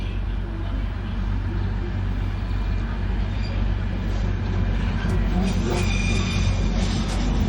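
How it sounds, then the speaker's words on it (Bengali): A diesel-engined toy train runs on a narrow hill line cut through the mountains near Siliguri, its low, steady engine rumble and rolling wheels filling the scene at a constant level as it approaches. "দেখো, পাহাড় কেটে কি সুন্দর টয় ট্রেনটা আসছে। তবে এটা ডিজেল ইঞ্জিন।"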